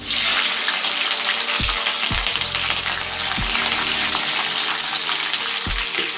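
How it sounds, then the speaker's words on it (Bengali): Capsicum pieces fry loudly in hot oil, a steady dense sizzle with several sharp knocks of a spatula against the pan. "একই তেলে শিমলা মির্চগুলো ফ্রাই করে নেব, ক্যাপসিকামগুলো।"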